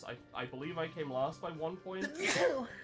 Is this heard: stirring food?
no